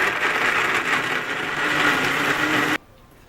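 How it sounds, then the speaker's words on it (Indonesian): A kitchen blender grinds shallots, oil and spices into sambal paste with a loud, steady whirring roar that runs unbroken for almost three seconds, then cuts off abruptly into near silence. "setelah itu bumbu-bumbu yang lain kita blender juga"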